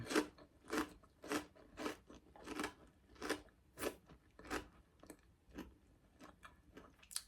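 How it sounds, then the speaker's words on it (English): Homemade air fryer crisps are bitten and chewed up close, giving a run of about a dozen sharp crunches at a steady pace of roughly two per second, with no talking. "You can hear the crunch."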